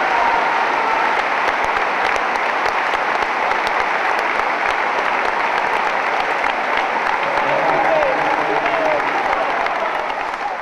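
Long sustained applause from a crowd of about 5,000 filling the stands of a sports hall at a mass funeral, a dense steady roar of clapping that holds for the whole stretch, loud and continuous.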